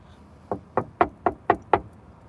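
Six evenly spaced knocks on a car door, sharp and close, in a steady rhythm about a quarter second apart against a quiet background.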